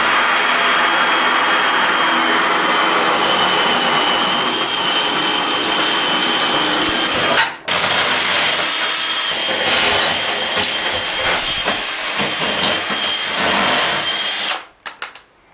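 A power drill whines and grinds steadily while boring into tile, briefly stopping midway, then continuing with rough, uneven crunching.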